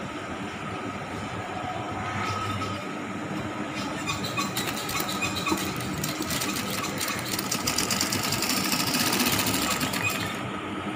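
A sewing machine stitches the seam of a simple top, a continuous fast mechanical rattle at steady close range throughout, with no voices.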